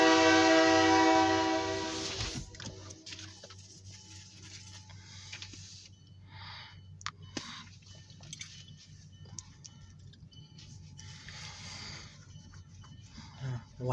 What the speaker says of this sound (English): We got an OC&T freight train coming.